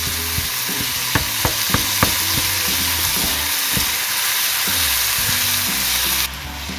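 Ground beef fries in a pan with a steady loud sizzle while spices are worked in, a few sharp scraping knocks from the spoon standing out early and the hiss dropping slightly near the end.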